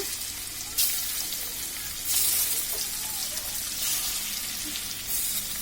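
Pangas fish pieces fry steadily in hot oil with a continuous dense sizzle, close and loud, with a few sharper bursts as pieces are added.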